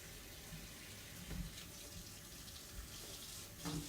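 Kitchen sink tap running as things are rinsed, giving a steady, fairly quiet stream of water with a few louder splashes and no talking.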